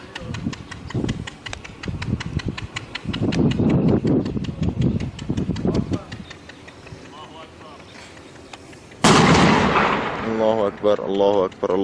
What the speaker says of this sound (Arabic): رمي بالهاون على مقر الشبيحة في جنوب المدينة